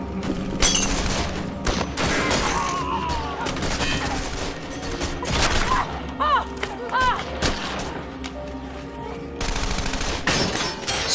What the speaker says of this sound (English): But gunman Emil Matasareanu is starting to find his range.